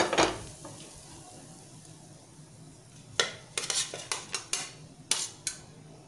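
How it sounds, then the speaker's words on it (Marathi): A cooked potato dhirde is lifted from the pan onto a plate, giving a handful of sharp metallic clinks and scrapes in quick succession after a quiet stretch of low kitchen background. "आपण प्लेटमध्ये काढून घेऊया."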